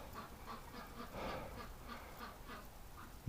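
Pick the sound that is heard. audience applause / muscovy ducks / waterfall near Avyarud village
muscovy ducks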